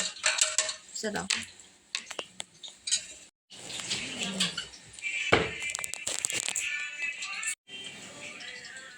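Plates and cutlery clink and clatter in a home kitchen while fried fish is served, with sharp dish knocks and scraping in bursts and brief gaps, and a person speaking briefly between the sounds.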